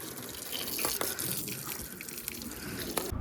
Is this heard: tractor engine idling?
no